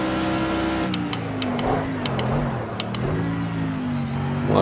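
A GT3 race car in Project Cars 2 brakes for a corner, its engine tone sliding down in pitch as it slows, with a few sharp clicks of gear changes over a steady, close engine drone.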